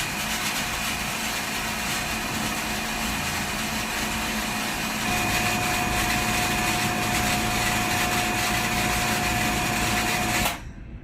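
An electric water pump feeding a bladder pressure tank runs with a steady mechanical whine and hum, its tone shifting slightly midway before it cuts off near the end; no voices.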